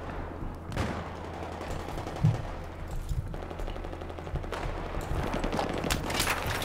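Battlefield 3 multiplayer gunfire, bursts of automatic rifle fire and scattered shots, some nearer and some distant, layered over steady battlefield ambience at moderate level.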